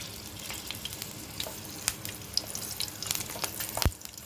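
Green chillies fry in a little oil in a pan, a close, continuous crackling sizzle with scattered sharp pops that grow busier toward the end, no voices.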